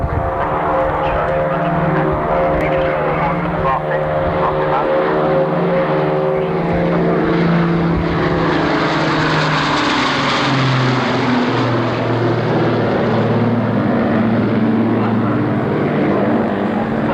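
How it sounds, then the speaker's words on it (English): Two aircraft fly past together at the 1990 Farnborough air show, a loud, steady propeller and engine roar that swells slightly mid-pass and continues throughout. "Nice to have the two aircraft going through together."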